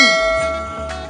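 A bright notification bell chime rings once as a short sound effect, a sustained metallic ding with a clear tone that slowly fades, heard alone.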